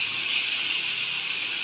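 Food frying in a pan hisses steadily after a little water is added, a close, even sizzle with no voices over it.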